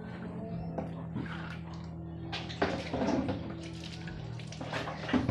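A shower runs while a pet is being bathed, with splashing water and bursts of spray coming close in an indoor space at a moderate level, plus a few knocks and handling sounds.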